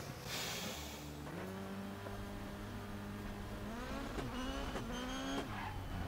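VW Polo PSRX rallycross car in DiRT Rally 2.0, a 600-horsepower engine revving and shifting through gears with rising pitch, tire skids and nearby rival cars, loud and continuous.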